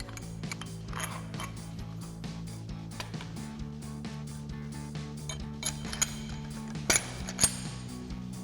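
Ratchet wrench clicking steadily as a nut and bolt are backed off a leaf spring bracket during a Toyota Tacoma suspension lift install, with a few sharper metallic clanks near the end.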